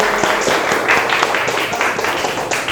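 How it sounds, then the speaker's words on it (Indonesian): Classroom of seventh-grade students clapping together in a short burst of dense, steady applause, close and fairly loud, with no talk over it. "Kita tepuk tangan dulu untuk diri kita masing-masing."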